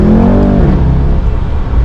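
Mercedes E63 S AMG engine revving hard under full acceleration, a loud, close, rising roar with harmonics climbing then settling into a steady heavy drone, no talking.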